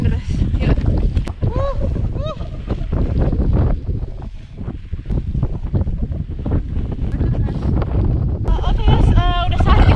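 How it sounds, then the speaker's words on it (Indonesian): Strong gusting wind roars across the microphone on a snowy winter mountainside in Europe as heavy snow falls, a steady loud buffeting throughout with a person talking over it. "harus kuat melewat untuk sampai di bawah karena berangin banget dan saljunya makin deras"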